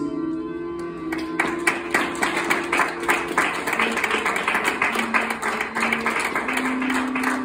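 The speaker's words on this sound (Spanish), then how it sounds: "vamos a recibir con un fuerte aplauso a la primera pareja de damas y caballeros de honor" Wedding guests clap together for the arriving bridesmaids and groomsmen, a steady patter of many hands that runs throughout with music playing underneath.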